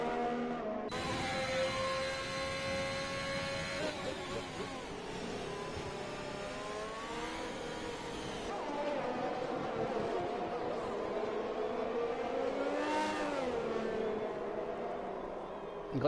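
Race car engine in a PS4 racing game revs through gear changes on a qualifying lap, a steady loud drone with rising and falling pitch sweeps, under continuous commentary.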